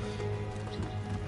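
Horses moving in Red Dead Redemption 2, a steady loud rumble of hooves and movement filling the short stretch with no clear gaps, close and continuous.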